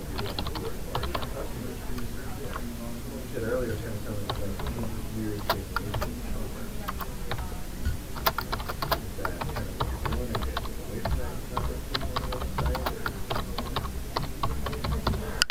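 Steady typing on a computer keyboard, dense rapid clicking keys at close range continuing throughout, with faint speech underneath.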